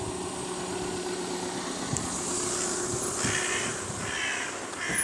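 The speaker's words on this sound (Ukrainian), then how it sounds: "молоде пташеня ще ну таке крикливе" Calls of a young hooded crow, loud and harsh, ring out over a steady background of idling engine and traffic noise.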